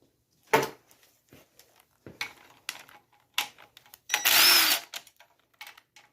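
A power tool backs 10mm bolts out of the oil pickup during a Honda V6 engine teardown, with short whirring bursts and one longer run, mixed with metallic clinks of parts and tools close by.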